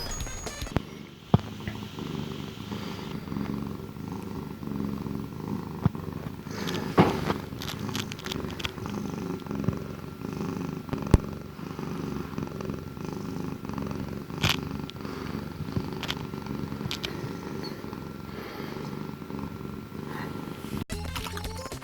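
A pet cat named Gabergoo purrs steadily and close up, a continuous low rumble with a few faint clicks and light rustles over it.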